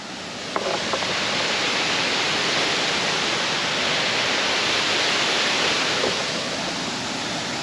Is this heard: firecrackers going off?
no